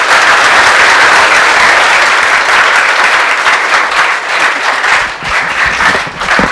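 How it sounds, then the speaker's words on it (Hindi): An audience in a hall breaks into loud, sustained applause for a speaker, dense clapping filling the whole stretch and easing slightly near the end. "सर के लिए एक बार जोरदार तालियां।"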